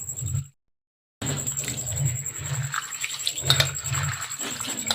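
Wheat grains rubbed and washed by hand in water, a wet sloshing and rustling that runs steadily, breaks off for a moment, then resumes close by.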